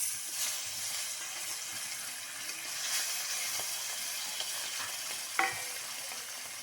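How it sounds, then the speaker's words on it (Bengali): Fish fry in a pan, a steady close sizzle and hiss with occasional stirring scrapes and one sharper clatter near the end, no voices. "বাকি যে মাছগুলো আছে সেগুলো ভেজে নেব।"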